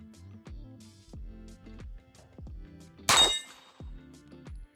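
A Mauser C96 pistol fires once at a small steel target, a sharp loud crack with bright metallic ring partway through, set against repeated tonal background music.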